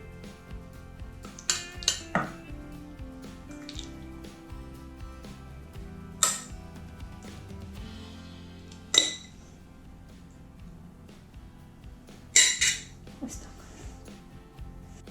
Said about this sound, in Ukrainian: Ну и решту курочки так також викладаю.